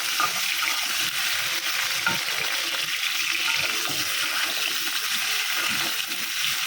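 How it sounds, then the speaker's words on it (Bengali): Meat for biryani braises and is stirred in a pan, giving a steady loud sizzle and frying hiss throughout, with soft scraping of the stirring underneath and no talking. "একটু কষা কষা করবো তো এই মাংসটা হলো বিরিয়ানি"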